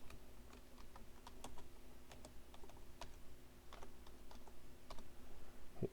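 Rapid, faint keystrokes clatter on a computer keyboard in short irregular bursts, with a few sharper single key presses spaced among them, set against a quiet, low room hum.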